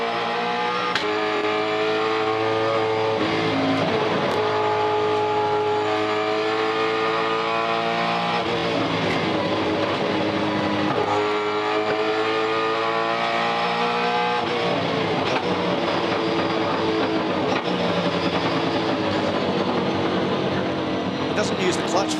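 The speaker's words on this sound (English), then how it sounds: "This is Jason Bright on board car 8, 10th at the moment" Onboard engine of a V8 Supercar racing in the 2012 Bathurst 1000, loud and continuous with rising and falling revs through gear changes and downshifts, a sustained in-car roar throughout.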